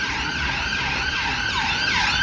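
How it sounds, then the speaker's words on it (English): An ambulance siren wails on a London street, its rising and falling tones cycling steadily over traffic rumble, loud and sustained throughout. "And the ambulance service, you heard that sound."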